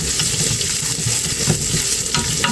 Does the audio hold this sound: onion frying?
yes